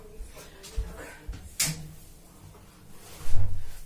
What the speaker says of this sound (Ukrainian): Закрию двері